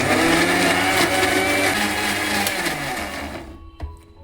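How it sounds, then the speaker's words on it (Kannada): A kitchen mixer grinder runs again on a watery guava mixture, its loud steady motor whine and churning rumble close by, fading out near the end into a few light clicks. "ಮತ್ತೆ ರುಬ್ಕೋಬೇಕು"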